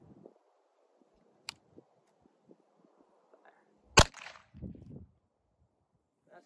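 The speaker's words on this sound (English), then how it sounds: "I'm gonna dump whatever the rest I have in my CZ" Sharp gunshot cracks from a CZ (Crvena Zastava M70) police pistol ring out at practice, one loud shot standing out among fainter pops, followed by a short rumbling echo; long quiet stretches between.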